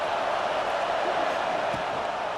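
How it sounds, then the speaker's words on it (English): Dense, steady roar of a college football stadium crowd at Texas A&M, a loud wash of cheering with no clear breaks. "this crowd bringing the energy and noise early."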